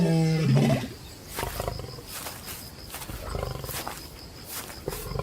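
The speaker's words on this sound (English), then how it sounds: "the roar of the male lion echoes across the savannah" A male Serengeti lion on the savannah lets out a loud, close roar that tapers into a run of deeper, rumbling grunts, with no voices over it.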